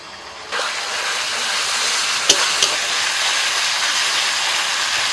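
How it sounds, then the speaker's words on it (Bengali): Ginger, garlic and green chilli paste frying in a pan with onions, a steady loud hiss and sizzle throughout, broken by two brief clanks of stirring near the middle. "এবার দিয়ে দিচ্ছি আদা, রসুন আর কাঁচা লঙ্কার বাটা"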